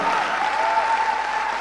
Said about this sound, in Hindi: मैं चाहूंगा उनके लिए जबरदस्त ताली